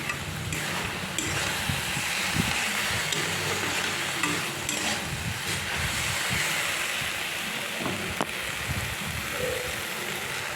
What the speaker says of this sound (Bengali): সর্ষে পোস্ত দিয়ে এবার ভালো করে কষিয়ে নেব